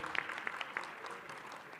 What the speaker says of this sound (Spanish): Tocayo, gracias y fuerte aplauso,